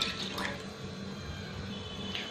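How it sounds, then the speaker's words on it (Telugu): Half a litre of water poured into a bowl while making homemade rose water, a faint, steady trickling pour lasting a couple of seconds with no talking. "హాఫ్ లీటర్ వాటర్ని బౌల్లో వేసుకోండి."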